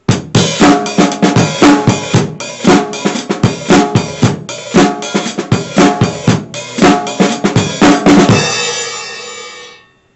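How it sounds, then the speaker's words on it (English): A hi-hat is played with the foot pedal in a steady repeating rhythm of crisp closed chicks, close and loud, ending with a ringing open wash that fades out. "Or we can play it with the foot."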